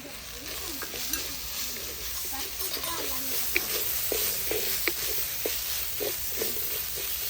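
Green chillies slit open with their seeds sizzle steadily in hot oil in a pan for a spicy broiler chicken fry, a close, continuous frying hiss with stirring scrapes and small pops throughout.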